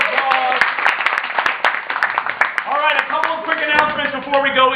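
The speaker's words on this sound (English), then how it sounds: "Give them a big round of applause" A theatre audience at a comedy improv show applauds and cheers, a dense continuous wash of clapping with whoops, while voices talk over it throughout.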